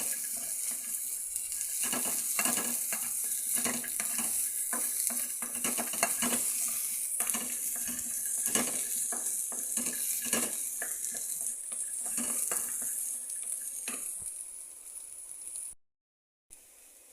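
Ginger fries in a pan for a beans seed curry, a constant bright sizzle with repeated stirring scrapes, close and steady before cutting off near the end.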